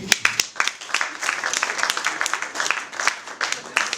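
An audience at an inauguration evening claps steadily, a dense patter of many hands applauding together at close range.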